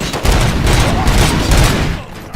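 Bursts of gunfire in the video game RoboCop: Rogue City crackle loudly in rapid, overlapping volleys, a dense fusillade that runs nearly throughout before easing off at the end.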